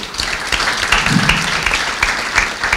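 A burst of applause from a crowd, steady clapping throughout with a faint voice underneath.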